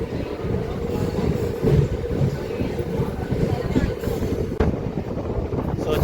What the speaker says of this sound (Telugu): మన ట్రైన్ అయితే బయలుదేరిందండి మధుర రైల్వే స్టేషన్ నుండి